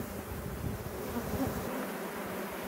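Honeybees at a small nuc hive make a steady, close buzzing drone that continues unbroken throughout, with no talking.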